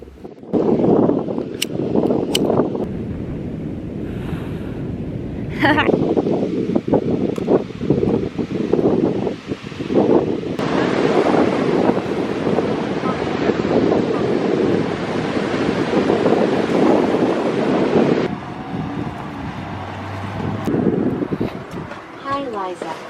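Pacific Ocean surf at a San Francisco beach roars steadily while strong wind buffets the microphone, producing a loud, continuous rushing wash with gusty rumbles that lasts over twenty seconds.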